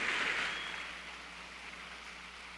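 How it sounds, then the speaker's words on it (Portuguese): Applause from an audience honouring researchers at a political event, a dense, steady wash of clapping that is loudest at the start and eases slightly, heard at a distance with no talk over it. "uma salva de palmas para esses intelectuais"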